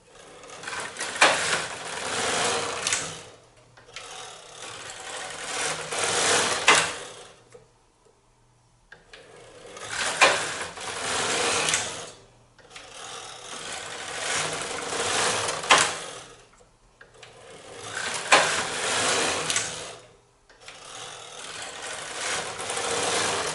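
A knitting machine carriage sweeps across rib rows at ribbing tension, a double 1x1 rib neckband, in a steady series of long whirring, clacking passes, each several seconds long and separated by brief pauses, close and fairly loud with no talking.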